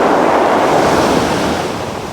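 Strong sea waves crash and wash against a rocky shore, a loud, continuous roar of surf blended with gusting wind noise on the microphone, with no voices.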